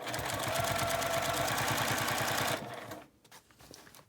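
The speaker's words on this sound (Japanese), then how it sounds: "この下のところを端ミシンでぐるりと縫います。" A sewing machine edge-stitching around the bottom of a fabric drawstring bag, running in a fast even rhythm close by, then stopping abruptly and leaving near silence.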